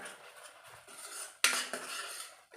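A spoon stirs banana halwa with sugar and ghee in a pan, making close metallic scrapes and clinks on the pan with a sharp knock partway through, and no one speaks.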